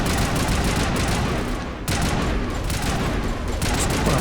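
Dense, continuous gunfire from the Mass Effect video game, rapid overlapping shots forming a steady loud barrage with a brief dip midway before resuming at full intensity.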